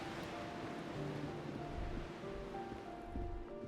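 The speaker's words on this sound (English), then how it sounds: "Waves crashing in the darkness." Waves breaking in darkness, with a steady low wash of surf and rolling rumbles under faint droning tones, continuous and moderately distant, no voices.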